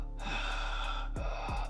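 Heavy, rasping breaths drawn inside a helmet in imitation of Darth Vader, close and steady, with one long exhale followed by two sharp intakes near the end.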